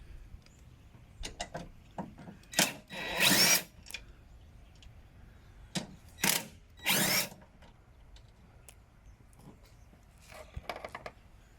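A power tool drives nuts on the driver's side of a 2014 Mustang GT, giving several short whirring bursts with ratcheting stops against quiet garage background, close and fairly loud.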